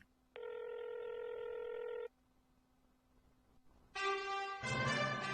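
A telephone being dialed: a long steady tone, a pause over a faint hum, then a short run of bright keypad beeps in quick succession, loud and close with no talk.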